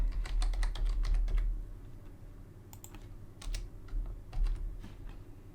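Rapid typing on a computer keyboard while registering a new account, with dense runs of close, crisp key clicks, a brief pause and then scattered taps, and no voices.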